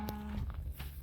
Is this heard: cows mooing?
yes